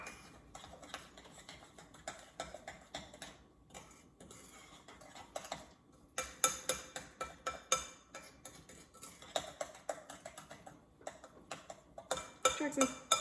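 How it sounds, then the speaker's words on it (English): A spoon stirs sugar into a low-carb keto cobbler mixture, giving quiet, irregular clinks and taps against a bowl in uneven bursts, close and fairly faint, with occasional low voices in the background. "I'm gonna stir that in"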